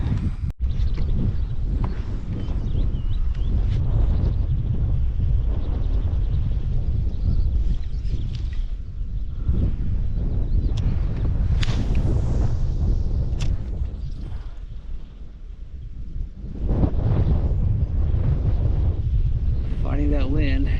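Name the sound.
strong wind while kayak fishing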